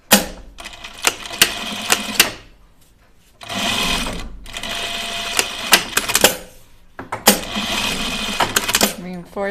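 A sewing machine stitches a backpack seam, tacking past the seam allowance, in three rhythmic bursts separated by short pauses, with some talk between them.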